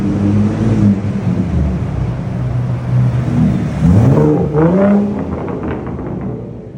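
A Ford Raptor pickup fitted with an AWE exhaust rumbles steadily, then revs sharply near the middle with a rising, burbling engine note before settling back, loud and close with no talking.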